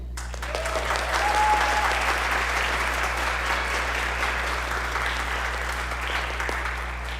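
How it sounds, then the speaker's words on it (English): An audience at a school concert of jazz band and orchestras gives steady, sustained applause for student musicians, a broad even roar of clapping that holds at one level throughout over a low steady hum. "please join me in a round of applause for these wonderful students and their accomplishments one more time"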